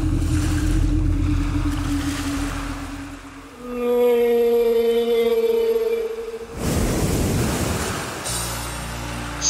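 Ocean waves and a whale leaping from the sea at night, a low rolling surge of water with a long, tonal whale-like call rising in the middle, followed by a broad splashing wash.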